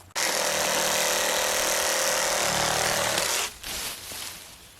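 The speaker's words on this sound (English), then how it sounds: "It's a reciprocating saw, so the blade goes back and forth like this." A battery-powered reciprocating saw rips through wood in one loud, continuous buzzing burst of about three seconds, starting abruptly and cutting off sharply, followed by a brief quieter rattle as it winds down; no talking.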